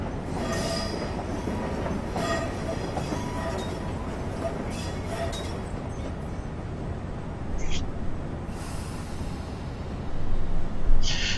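A locomotive in the Train Simulator 2015 video game (New York New Haven line, CSX Genset) rumbles steadily while pulling up to couple wagons, with hissing air bursts and a rising engine surge near the end.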